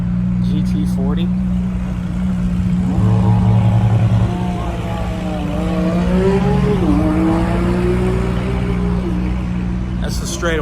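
A sports car accelerates along the half-mile straightaway at the Porsche Experience Center, its engine note climbing through gears in the distance beneath nearby talking, ending with a brief swell.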